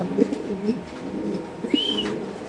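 A male racer pigeon coos in its cage at a pigeon market, a few low, throaty coos repeated close by over steady background noise, with no talking.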